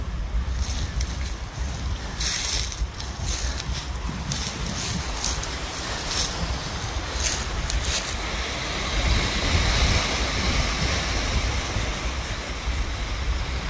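Lake Michigan waves washing against a rocky shore below a lookout, a steady rush of surf mixed with gusting wind buffeting the microphone, no voices.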